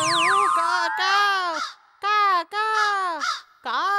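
An animated cartoon character imitates a crow with its voice, letting out a series of loud, drawn-out cawing cries in quick succession, each separated by brief pauses.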